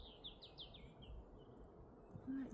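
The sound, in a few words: robins chirping in the woods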